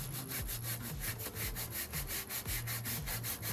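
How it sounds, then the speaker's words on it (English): An old sock wipes in steady back-and-forth strokes across a painted wooden dresser, snagging on rough high spots of chalk paint and overspray with dry, scratchy rubbing that fills the clip up close. "You can hear the sock getting caught on the high spots."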